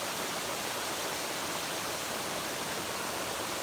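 A waterfall pours into an Erie Canal lock in a steady, even rush of noise, moderately loud and unbroken, with no talk.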